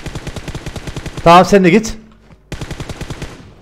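Rapid bursts of automatic gunfire in the video game PUBG Mobile, loud and close, with a short pause partway through while a player speaks briefly.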